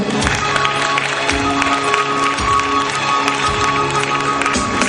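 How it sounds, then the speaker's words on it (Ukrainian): Steady applause from a crowd at a Christmas concert, dense continuous clapping at a moderate distance that fills the whole stretch. "Тож давайте привітаємо їх оплесками."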